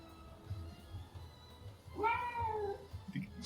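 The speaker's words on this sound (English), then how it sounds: "Oh, look, a kitty cat!" A cat gives one clear, drawn-out meow, close and distinct, following a stretch of low background murmur and faint voices.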